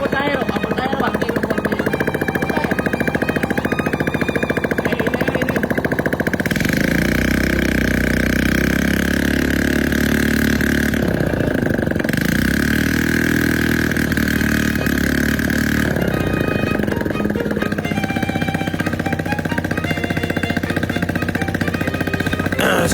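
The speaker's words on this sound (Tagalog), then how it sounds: "sobrang hinang ikot na ang ating generator, so kailangan siyang high speed talaga, mataas na RPM" A generator built from a Honda Wave 125 motorcycle engine runs continuously and loudly, its steady drone shifting in pitch as the engine speed rises and falls, with people talking over it.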